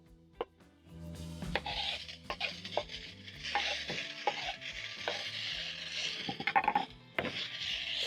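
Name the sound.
tomatoes stirred and cooking in pan with beef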